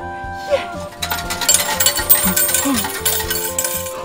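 Coins clatter out of a car wash coin machine into a metal tray, a rapid jangling cascade over a steady mechanical hum, with faint voices in the background.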